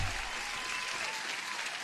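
A short stretch of steady applause plays faintly on a live futures and forex trading stream, an even wash of clapping that holds without a break.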